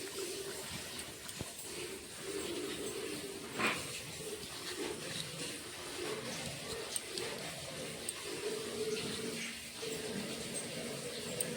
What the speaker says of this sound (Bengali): ভালো করে ধুয়ে নিচ্ছি সবজিটা।